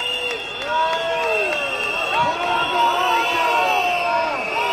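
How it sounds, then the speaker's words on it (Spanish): A dense crowd shouts and boos loudly and steadily as Pedro Sánchez, Spain's prime minister, arrives at the Palacio de la Generalitat, with many voices rising and falling in a continuous roar. "entre gritos y abucheos llega el presidente del gobierno Pedro Sánchez al Palacio de la Generalitat"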